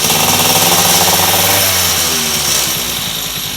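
An MBK 51 moped engine runs loud and close, a buzzy two-stroke drone that rises as the throttle opens, then drops and sputters as the engine falters and cuts out.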